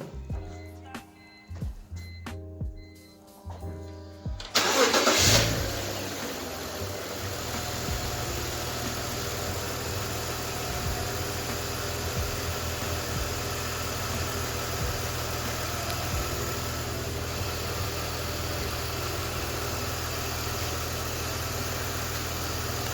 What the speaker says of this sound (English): we're gonna go ahead and start up the car and see.